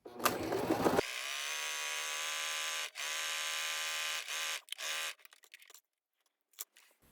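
A sewing machine runs a short reinforcement stitch over serger stitching on stretchy shorts, a steady close motor whir in several bursts with brief pauses, then stopping.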